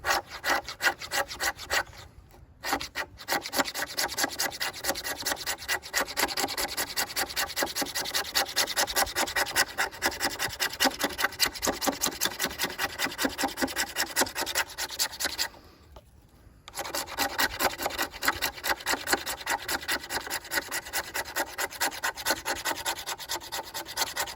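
A ferro rod scraped hard along a stick of fatwood to throw sparks, in rapid, steady rasping strokes close to the mic, with two brief pauses.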